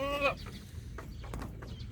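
Chickens near a rural Thai house give a brief, close clucking call at the start, followed by quieter farmyard sounds and faint background noise.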